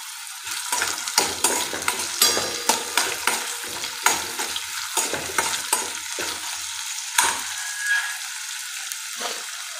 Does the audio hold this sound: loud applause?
no